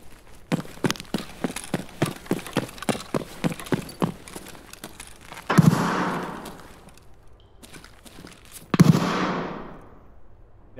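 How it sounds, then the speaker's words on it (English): Rapid gunfire in Escape From Tarkov: a steady run of about a dozen evenly spaced shots, then two louder, closer blasts with long ringing tails several seconds apart. "That's you shooting?"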